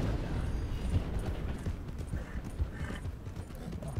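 Horse hooves clop steadily at a trot on a track in Red Dead Redemption 2, a close and continuous rhythm of dull hoof strikes over low background rumble, with no talk.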